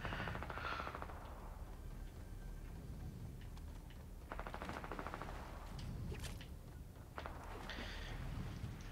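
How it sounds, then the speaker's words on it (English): Rapid bursts of gunfire, rattling like machine guns in quick repeated volleys with short gaps, sounding distant and fairly faint throughout. "Who's doing the shooty shoots right now?"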